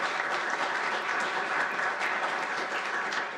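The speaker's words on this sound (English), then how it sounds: "So a big round of applause for all of you," A large crowd at a city's State of the City presentation applauds steadily, a dense, even wash of clapping that holds at constant loudness throughout.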